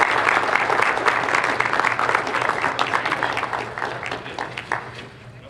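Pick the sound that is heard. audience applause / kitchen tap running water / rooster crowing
audience applause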